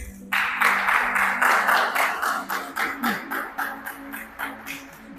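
A church congregation claps together during a Monday evening worship service, a loud run of quick, rhythmic handclaps that starts abruptly and keeps a steady beat, with no talking over it.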